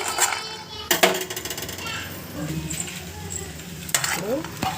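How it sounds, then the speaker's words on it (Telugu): Onions sizzle in a pan while a utensil scrapes and clatters against it in repeated stirring strokes, close and fairly loud. "ఇవి మంచి కలర్ వచ్చే వరకు ఇలా వేయించండి"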